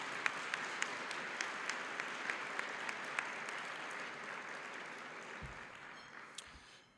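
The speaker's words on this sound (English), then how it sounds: "So one more round of applause for that team." Audience applause at a community action annual meeting on affordable housing, a steady wash of many hands clapping that thins and fades out toward the end, with no voices over it.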